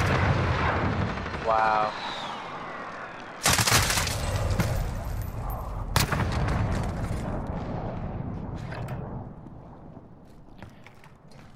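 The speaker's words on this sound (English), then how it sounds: "But we're getting airstrike." Heavy airstrike blasts in the battle royale game Warzone, loud broadband bursts around the four- and six-second marks that rumble on under ongoing gunfire, with a voice briefly exclaiming over the chaos.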